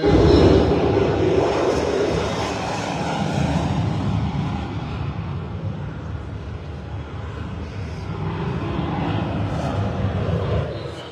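A jet aircraft taking off and climbing toward 20,000 feet, played back from a recording: a loud, continuous engine roar that holds steady for about eleven seconds with no voices.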